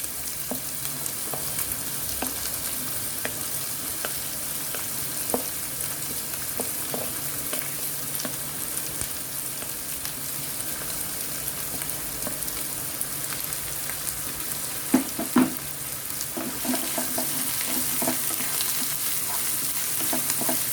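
Roughly chopped onions fry in a pan for a Maharashtrian misal pav, giving a steady close sizzle broken by occasional louder crackles and stirring scrapes, with no voices.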